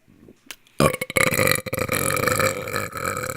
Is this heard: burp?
yes